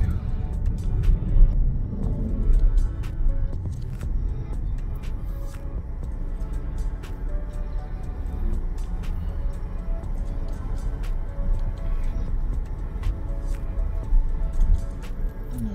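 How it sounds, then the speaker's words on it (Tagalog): Motor tricycles pass along a street in Malabon, Metro Manila, their engines rumbling steadily at moderate loudness amid general traffic noise, with occasional speech. "Daming tricycle eh."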